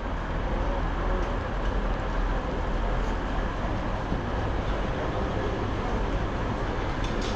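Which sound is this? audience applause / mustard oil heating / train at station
train at station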